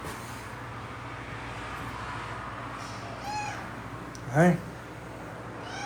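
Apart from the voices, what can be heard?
cat meowing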